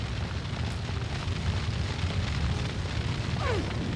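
An explosion in The Lamplighters League rolls out as a sustained, roaring low rumble with a crackling, fiery texture. It keeps an even loudness for about four seconds, with no talking.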